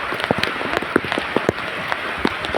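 Rain splashing nearby at Uparkot Fort in Junagadh, with irregular louder spatters and drips standing out above a steady patter, no speech.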